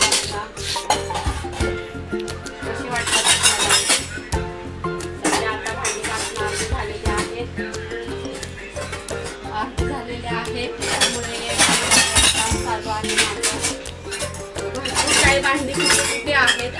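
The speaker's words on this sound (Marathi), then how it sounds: "माझी भांडी लावायचं चालू आहे लावते बघा मी लावते" Steel dishes and utensils are stacked and put away during household cleaning, giving a loud, continuous clatter of clinking metal with bursts of heavier crashes throughout.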